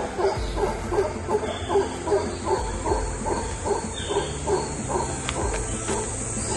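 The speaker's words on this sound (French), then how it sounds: "C'est vraiment un singe hurleur." Howler monkey calling from deep in the Costa Rican rainforest during the rainy season, heard along a forest trail. A series of rhythmic, pulsing roars repeats steadily at a moderate distance over a constant background of insect buzz.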